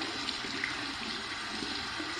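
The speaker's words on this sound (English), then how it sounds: "we're going to go ahead and put the sash block underneath some cold water here" Cold tap water runs steadily over a barbershop shave soap block, a soft continuous hiss of flowing water at low level, with no talking.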